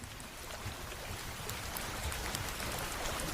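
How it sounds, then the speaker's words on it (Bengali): Heavy rain falls on a deserted riverside ghat at night as a steady, even downpour hiss, moderately loud and unbroken, with no voices. "নিচে কাদা, মাথার ওপর অঝোর বৃষ্টি।"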